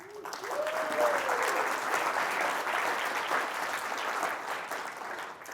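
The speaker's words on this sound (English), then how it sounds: "Round of applause for them." Audience at a conference talk breaks into sustained, dense applause lasting several seconds, with a brief whoop near the start and no speech over it.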